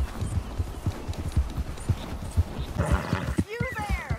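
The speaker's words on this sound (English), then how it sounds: "maybe I should feed my horse" In the Red Dead Redemption 2 video game, a horse's hooves clip-clop in a steady rhythm, closely followed by a short whinny near the end. Voices and game sounds run underneath.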